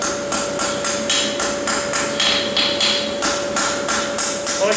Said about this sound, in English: The better I can hammer finish a shoe, the less I have to grind the shoe.